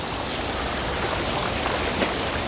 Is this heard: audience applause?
no